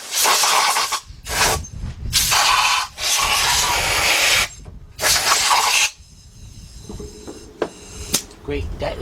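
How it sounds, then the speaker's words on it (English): Compressed air from a blower hisses in several loud, close bursts into a 3.7 engine on a 2003 Jeep Liberty Sport during a partial rebuild, with short pauses between blasts and quieter handling noises afterward. "Next thing we do is get my air blower."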